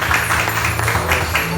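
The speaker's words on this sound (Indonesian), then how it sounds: "Berikan tepuk tangan bagi Allah kita." A church congregation claps together in a short burst of applause, dense, steady and close, with a low hum underneath.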